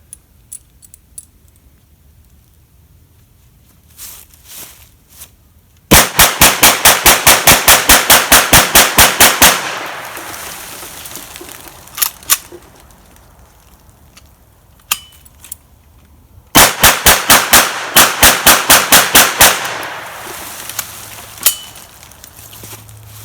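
A Smith and Wesson M&P Shield 9mm pistol fires on an outdoor range in two rapid strings of sharp, loud shots, each about a dozen rounds, with scattered single cracks and handling clatter between them.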